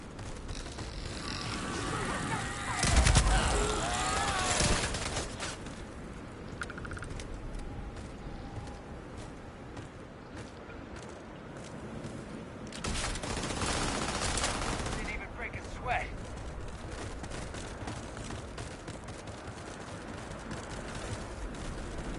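Enemy gunfire during a firefight in the video game Starfield, with dense bursts of shots early on and again midway, separated by quieter stretches of game ambience and scattered sounds.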